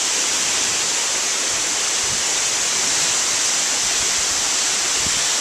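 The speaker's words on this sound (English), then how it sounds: "This is the largest waterfall in West Africa." The largest waterfall in West Africa pours with a constant, dense roar of falling water, loud and unbroken from start to finish with no voices.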